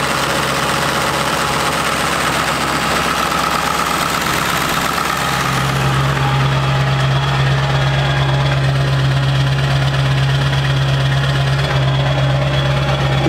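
A Ford 7.3 Powerstroke diesel engine in a totaled truck runs at idle, close and loud, with a steady low rumble and a constant knocking clatter throughout, unbroken by voices.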